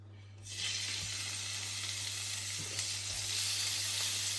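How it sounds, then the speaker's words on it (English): Prawns hit a hot pan and sizzle loudly for seafood rice, a steady bright frying hiss with occasional clinks, close up and without speech. "Once our pan is hot enough, I'll start to fry off the prawns."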